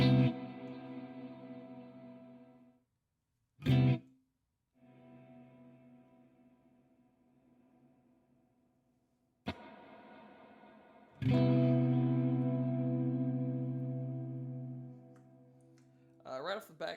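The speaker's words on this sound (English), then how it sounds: "Right off the back, it's already got a pretty good amount of reverb when I dime it" Clean electric guitar played through a Wampler Ethereal delay and reverb pedal set to quarter-note delay, with loud sustained chords and single notes trailing into long washy reverb and echo repeats, separated by brief pauses and short muted strums.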